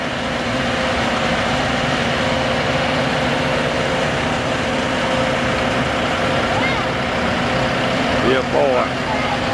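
Big tractor running in the 2013 Denton Farmpark 23-mile tractor parade gives a continuous low engine rumble throughout, with short bits of speech near the end.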